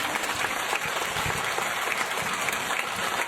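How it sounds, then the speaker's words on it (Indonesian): Audience applause in a crowded hall for a comedic Islamic preacher's talk, a dense steady wash of clapping held at an even level throughout with no voices standing out. "Tepuk tangan bu."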